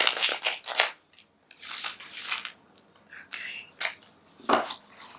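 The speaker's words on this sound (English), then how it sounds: "One last shuffle for Pisces" Crisp papery riffling bursts of cards being shuffled, several quick flurries separated by short pauses, close and moderately loud.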